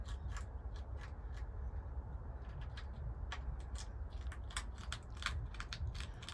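A hedgehog crunches food inside a greenhouse, a steady run of small, sharp crisp bites repeating close by over a low background rumble, with no talking.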